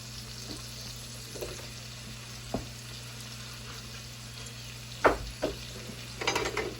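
Mushrooms sautéing in a pan for Salisbury steak, a faint, low sizzle under occasional scraping and knocks of a utensil stirring, with a cluster of louder clatters near the end.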